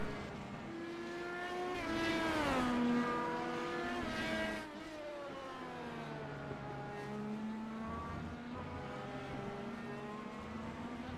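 Race cars lapping Road America in the iRacing game, engines screaming with rising and falling pitch as they pass and shift gears, a loud pass early then steady engine drone, no talk.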